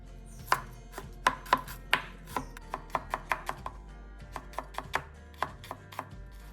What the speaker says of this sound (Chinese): 50克小红葱切成薄片